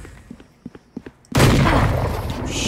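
Valorant gameplay: a few soft footstep-like thumps, then a sudden loud shotgun blast that roars on as a dense, sustained burst of fire.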